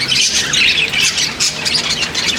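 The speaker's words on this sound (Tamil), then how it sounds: "இங்கே பார்த்தீங்களா பேர்ட்ஸ் இருக்கா" Birds squawk at St. Thomas Mount church in Chennai, a loud, close, continuous chorus of harsh calls with no talking.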